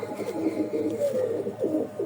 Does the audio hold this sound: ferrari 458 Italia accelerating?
no